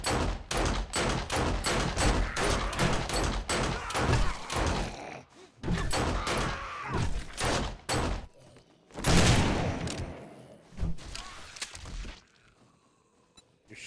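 Rapid shotgun blasts ring out in the zombie survival game 7 Days to Die, a long run of close, loud, evenly spaced shots followed by looser bursts with short gaps, then a final few shots before fading out.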